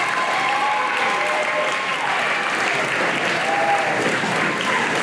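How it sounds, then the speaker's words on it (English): A crowd at a graduation ceremony applauds steadily, a dense, even wash of clapping held at a constant level throughout, with faint voices mixed underneath. "give yourself a round of applause and a pat on the back."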